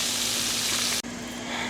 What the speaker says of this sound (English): we're frying chicken still